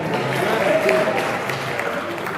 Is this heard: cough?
no